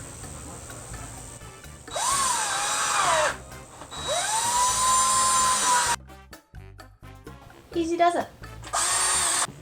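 Power drill whirring in bursts of a second or two, close and loud, while making a reverse canvas sign at a craft table. A person speaks briefly between the bursts.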